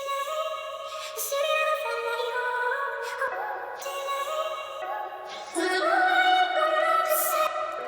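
A chopped vocal acapella sample pitched up seven semitones sits in a beat, heard as bright, stuttering sung phrases cut into short repeated slices, steady and clear throughout with no talking over it.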